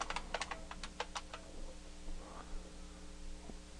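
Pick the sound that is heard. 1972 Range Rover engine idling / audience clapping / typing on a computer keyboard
typing on a computer keyboard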